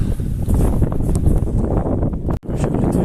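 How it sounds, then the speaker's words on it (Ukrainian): Strong wind buffets the microphone with a loud, rumbling roar, gusting continuously with one brief dropout near the end. "Дуже холодно, прям вітер конкретний дує"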